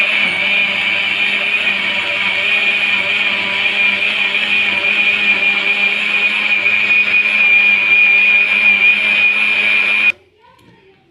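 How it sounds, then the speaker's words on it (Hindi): A blender whirs loudly and steadily for about ten seconds blending plums for juice, then cuts off abruptly, leaving near silence. "अब ब्लेंडर से हमने इसको अच्छे तरीके से ब्लेंड कर लिया"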